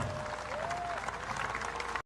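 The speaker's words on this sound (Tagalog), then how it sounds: "iparating ninyo ang init ng inyong palakpak at pasasalamat kay President Bongbong Marcos Jr." Crowd applause at a political rally in the Philippines, continuous dense clapping from a large audience held at a steady level before cutting off abruptly.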